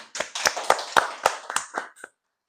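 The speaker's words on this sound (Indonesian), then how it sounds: "Tepuk tangan." About nine distinct hand claps from a small group on an Indonesian podcast, sharp and fairly close, in a quick uneven rhythm that stops abruptly, with no talk over them.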